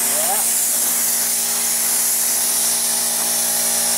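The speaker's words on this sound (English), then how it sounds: "I hear the air compressor turned on." Air compressor running in a shop during spray painting of a rat rod, a loud, steady broadband hiss and hum with talk over it.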